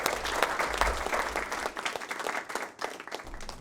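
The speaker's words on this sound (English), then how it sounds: "Let's give them a big round of applause" A conference breakout audience applauds, a burst of dense clapping that is strongest at first and then thins out over a few seconds, with no talk over it.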